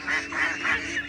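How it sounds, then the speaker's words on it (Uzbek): Farm turkeys, kept alongside ducks, give a run of four loud, close honking calls in steady rhythm with nothing else going on. "hamma joy indyuk bo'lib ketdi, indyuk."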